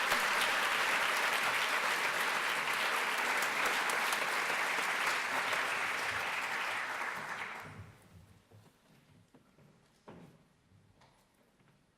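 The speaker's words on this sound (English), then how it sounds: "a big round of applause for being here with us tonight" An audience at a special evening event applauds in a dense, sustained burst of clapping that fades out near the end, leaving quiet room noise and a few scattered claps.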